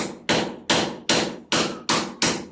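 A hammer chipping concrete at a construction site, seven loud close sharp strikes in an even rhythm, each ringing briefly before the next.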